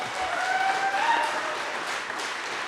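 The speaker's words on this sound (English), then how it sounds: "we can clap for that" An indoor audience claps together in a steady, even wash of applause that lasts a few seconds, with no voices over it.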